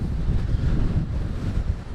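Strong gusting wind of Tropical Storm Isaias in Branford, roaring and buffeting against the microphone, loud, continuous and dense with low rumble throughout, no voices.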